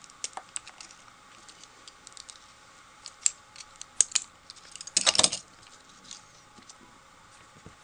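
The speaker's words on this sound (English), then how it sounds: "I'm going to use my junky scissors to trim off these wire stems" Old craft scissors snip through wire flower stems, giving sharp, isolated clicks and a quick cluster of crisp cuts near the middle, close and clear against a quiet room.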